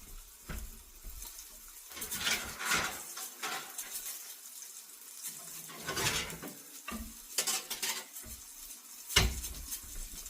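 Oil crackles and sizzles in bursts as flounder fries, with occasional stirring and clinks of a utensil against the pan.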